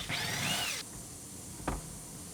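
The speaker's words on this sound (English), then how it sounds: "Unbolt the sun visor." A power driver spins out a bolt holding the sun visor on the passenger side of a GMC truck cab. There is a short whirring burst, then a single sharp knock, close by with no talk.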